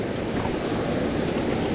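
Waterfall on a mossy trout creek, a steady loud broadband rush of falling water with no pauses, close to the microphone.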